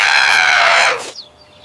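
A big white parrot in a pet store imitates a human cough: one harsh, breathy burst lasting about a second, followed by a brief high chirp and near silence.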